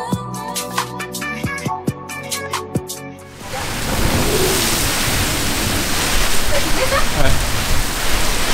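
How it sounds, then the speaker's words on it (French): Heavy rain and gusting wind sweep over a boat lying at anchor, a loud, continuous rushing hiss that swells in gusts after a stretch of music gives way abruptly. "t'aimes pas quand il pleut"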